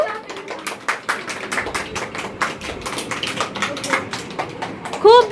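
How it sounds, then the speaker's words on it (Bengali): A group of people claps hands at a home gathering with singing and dancing, sounding as a run of sharp, uneven claps at close range, ending with a brief voice. "হাততালি"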